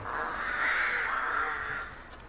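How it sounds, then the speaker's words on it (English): A single drawn-out, hoarse bird call rings out loudly for about two seconds, then fades away. "That must have been a bird."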